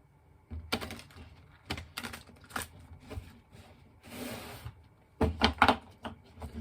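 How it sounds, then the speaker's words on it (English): Quiet, close clicks and riffling as tarot cards from a Mermaid Tarot deck are shuffled in short bursts, with a brief soft whoosh in the middle. "Let's do some initial shuffling."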